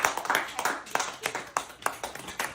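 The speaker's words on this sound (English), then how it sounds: "Big round of applause." A small group claps in uneven bursts at a club's season-ending party, sparse and close, with voices talking over the clapping.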